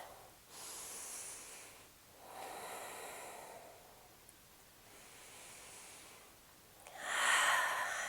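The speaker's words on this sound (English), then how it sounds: "lift up and breathe." Slow breaths during a postpartum yoga pose with pelvic floor breathing: several long, soft airy inhales and exhales in a calm rhythm, close and quiet, with a fuller, louder breath near the end and no talking.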